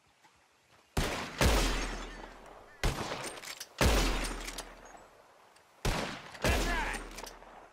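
Gunshots in a bottle-shooting contest in Red Dead Redemption 2, fired in loud sharp clusters of two or three with short pauses between, over a quiet background, with a brief spoken exclamation.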